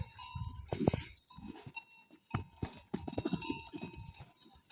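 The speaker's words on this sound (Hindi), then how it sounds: "बकरे भी हैं।" Goats bleating on a farm among livestock, several close calls and shuffling with bell-like clinks and hoof sounds, uneven bursts over a background tone.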